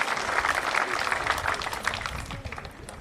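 Guests at an old-style wedding in Saint-Moreil, Creuse, applaud in a dense, steady burst of clapping that fades slightly toward the end, with a voice faintly audible among the crowd.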